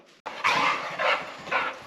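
A dog barks and yips in a few short, close bursts, three loud barks in quick succession after a brief pause, with no talking.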